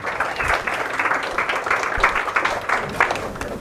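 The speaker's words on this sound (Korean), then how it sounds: "박수 한번 쳐주세요." Classroom applause during a university HCI lecture, a steady burst of many hands clapping together, dense and fairly close, with a faint voice briefly audible.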